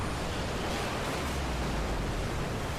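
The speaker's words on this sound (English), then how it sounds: "Oh no, it lets the water level down." Rushing water as the water level changes in the Darksiders video game, a steady, loud, broadband wash of flowing water with no breaks.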